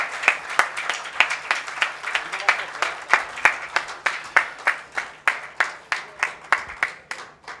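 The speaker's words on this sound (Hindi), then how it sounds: "एक बार जोरदार तालियों से स्वागत करें नवीन जोशी सर" At a mushaira, the audience claps in a loud, even rhythm of synchronized beats, roughly three per second, steady throughout, with a voice speaking faintly underneath.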